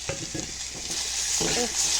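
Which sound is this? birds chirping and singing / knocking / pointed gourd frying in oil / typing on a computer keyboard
pointed gourd frying in oil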